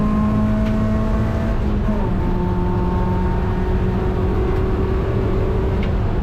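A race car engine holds steady throttle on the GingerMan track, recorded in the cockpit: a dense, loud, unbroken roar with a sustained tone that drops slightly in pitch partway through, then stays level.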